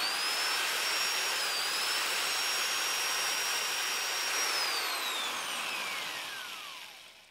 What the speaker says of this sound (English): I'm going to just use a hand drill